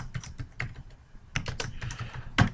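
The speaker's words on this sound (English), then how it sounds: "I'm just going to type them in" Quick bursts of clicking keystrokes on a computer keyboard as values are entered into an Excel dashboard, close and clear, coming in clustered runs with a short gap in the middle and no voices.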